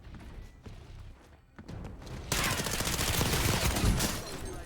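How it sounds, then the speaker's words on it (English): Intense gunfight gunfire in the video game Warzone 2.0, scattered shots at first and then a loud, dense burst of rapid automatic fire that keeps going to the end. "Thank God I won that gunfight."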